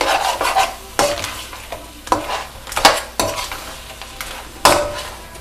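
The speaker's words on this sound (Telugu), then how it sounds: "ఒక్కసారి ఇలా కలిపేసుకొని కారం వేస్తాను." Chili powder is stirred into hot frying oil in a pan for a Nellore fish curry. Close, sharp spoon scrapes come about once a second over a continuous sizzle, with no talking.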